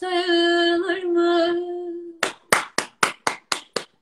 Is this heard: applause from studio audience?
yes